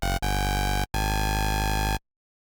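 A saw wave on a Massive synth with ring modulation turned fully up gives a harsh, dense, buzzing tone in three held bursts, a very short one followed by two longer ones, ending abruptly in silence.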